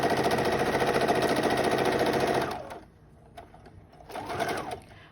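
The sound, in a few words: sewing machine stitching a fabric face covering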